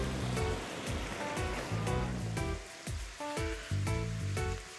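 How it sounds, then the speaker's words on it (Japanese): A river flows beside a walking path on Tsushima, a steady rushing of water heard alongside footsteps and scattered knocking sounds. "横はね、川が流れてるんだよ。"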